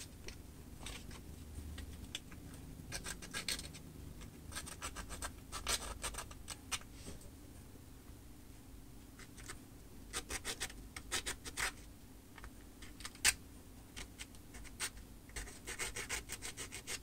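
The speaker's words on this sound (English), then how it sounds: "use the edge of the sandpaper to sand the flares" Sandpaper, from 120 up to 3000 grit, rubs against the flared edges of a handmade wooden plug in short, quiet, repeated scratchy strokes, close up with no talking.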